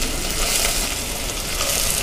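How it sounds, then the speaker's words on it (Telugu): Chopped onions and green chillies fry loudly in a pan, a dense, steady sizzle filling the whole stretch with no voices. "ఈ ఉల్లిపాయలు బాగా వేగనివ్వాలి"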